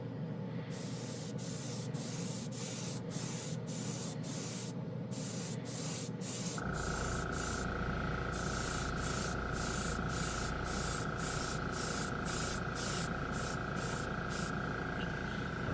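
Airbrush spraying gold chrome ink taken from a cheap paint marker, a steady close hiss broken into many short bursts as the trigger is pulsed, with a louder, fuller spray after the midpoint.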